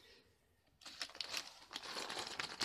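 Crinkling plastic from a non-resealable bag holding the Lego Star Wars magazine extra, a small Rey's speeder set, begins abruptly after a quiet start and continues as close, steady rustling and crackling.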